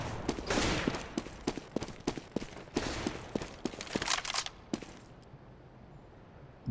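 A run of sharp gunshots and short bursts from Counter-Strike: Global Offensive on the Cache map, firing in quick irregular clusters before trailing off into near silence.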